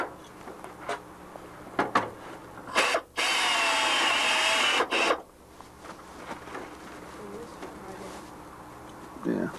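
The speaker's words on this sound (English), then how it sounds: "Now that we've got this stringer all drilled and clecoed, we want to finish going up over the ribs." A power drill bores a hole in an aluminium stringer on an RV-6 aircraft fuselage under construction, making a loud, close whine of about two seconds. Small tool clicks and handling noises come before and after the drilling.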